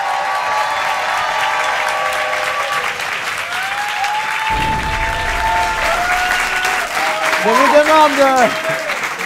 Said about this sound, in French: On applaudit très fort Via Grand Paris